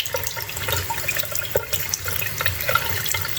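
Tap water runs steadily over a pair of Yum brand fishing sunglasses during a water-beading test, a continuous close splashing hiss with small drips and spatters throughout.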